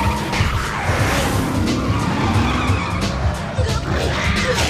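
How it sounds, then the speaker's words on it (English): A car chase from the film Blade fills the scene with continuous roaring engines, screeching tire skids and dense action noise, loud and unbroken throughout. "Just look at this crazy car chase."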